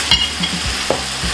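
Chicken is stirred into a fried rice and vegetable mix in a pan, with a quick run of close, loud scraping stir strokes over a steady sizzle and no voices.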